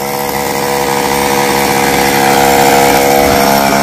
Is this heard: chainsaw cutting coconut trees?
yes